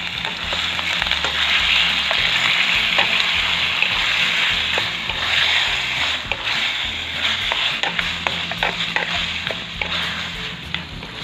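Pork belly fries in a hot pan for a home-cooked Filipino dish, giving a loud, steady sizzle and crackle throughout with occasional stirring scrapes, and no one speaking.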